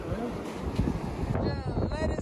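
Gusty wind buffets the microphone in a steady, loud roar on a beach while surf fishing, with faint low voices underneath.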